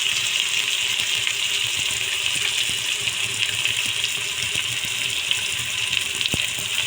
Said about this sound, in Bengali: কষাতে একটু জল দিয়ে দিয়েছি, যাতে মশলাটা তলা থেকে ধরে না